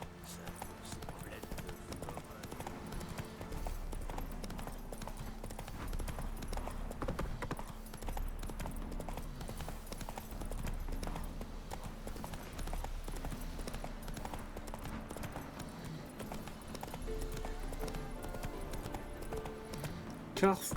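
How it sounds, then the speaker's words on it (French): Continuous rhythmic hoofbeats of galloping wild horses in The Witcher 3: Wild Hunt, with game music and faint speech underneath, steady throughout at a moderate level. "Ah, des chevaux sauvages. C'est stylé ça."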